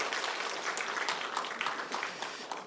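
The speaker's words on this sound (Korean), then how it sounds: "박수 한번 할까 봐요" A church congregation claps during a Sunday worship service, a brief burst of scattered hand claps at moderate volume that grows uneven and thins out toward the end.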